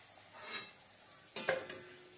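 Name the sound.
luchi (puffed flatbread) frying in hot oil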